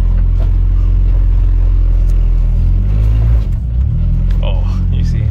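Idling engine of an Acura Integra with an S2000 clutch, loud and close, rumbling steadily then dipping and stumbling near the middle as it almost stalls before recovering.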